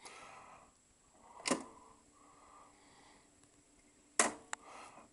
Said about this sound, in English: you'll hear plenty of clonks and clacks when I press the buttons in